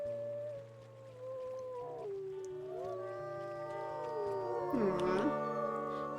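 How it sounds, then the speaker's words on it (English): Several wolves howl together in WolfQuest, long overlapping rising and falling tones, loud and close, layered over a steady game music drone with a low pulsing bass. "Let's do some howling here."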